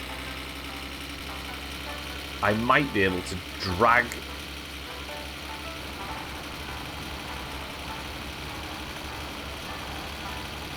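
A tractor engine in the game My Summer Car hums steadily at idle throughout, fairly quiet and constant, while someone talks briefly over it.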